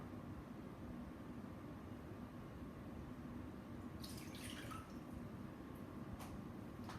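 Tap water pours steadily into a 1-cup measuring cup, a continuous close hiss and splash with a couple of light clinks of the cup near the end.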